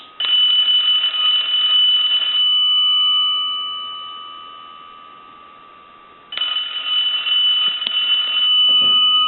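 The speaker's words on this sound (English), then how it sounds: "I'll go ahead and ring the telephone" A brass rotary Majesty telephone under repair rings its bell loudly in two bursts, a steady metallic jangle that stops, decays into a quiet gap and then starts again, ringing alone with no voices.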